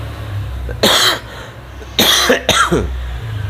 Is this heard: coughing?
yes